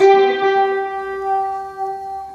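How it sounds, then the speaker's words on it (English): A tapped electric guitar chord rings out through a delay pedal, bright sustained tones blooming and repeating softly as the echoes trail over more than two seconds, close and alone. "Which with the delay pedal sounds like this."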